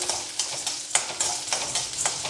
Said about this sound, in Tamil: ஒரு நூறுலேருந்து நூற்றி இருபது கிராம் உளுத்தம்பருப்பு இது நல்லா செவக்க வறுத்துக்கலாம்